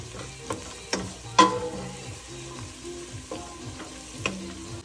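Garlic and onions fry in oil in a pan, a soft continuous sizzle punctuated by several clinks and scrapes of a utensil, close and without talk.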